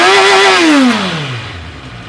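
A 2024 QJmotor Race 800 motorcycle with a 778 cc engine makes a loud, close engine note whose pitch falls from a high rev as the throttle drops, trailing off over about two seconds.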